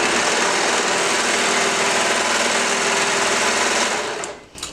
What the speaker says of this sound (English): So the serger cuts off the end of the seam allowance.